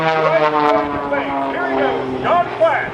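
An aerobatic propeller airplane flies an 8-point hesitation vertical roll at an air show, its engine and prop giving a loud buzzing drone with pitch that repeatedly bends up and down as it maneuvers.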